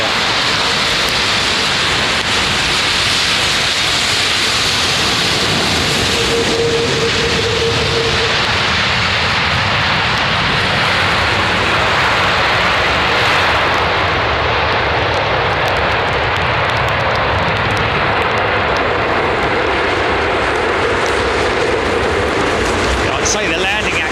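Jet airliners landing on runway 27R at London Heathrow Airport produce a loud, continuous engine roar that stays heavy and unbroken throughout, as if heard close to the approach path.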